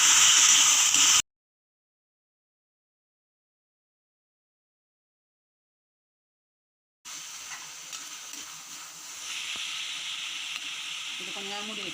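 Four onions sauté in a pan on the stove with a steady sizzling hiss, briefly at first and then continuously after a silent gap, with occasional stirring scrapes.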